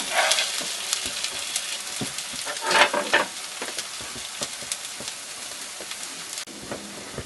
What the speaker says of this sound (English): I will turn the omelet over.